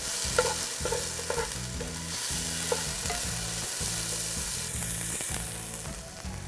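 Onion, garlic and jalapeno sizzle in a pan for meatball sliders, a steady loud fry broken by repeated rhythmic scraping as a utensil stirs them, with no talk.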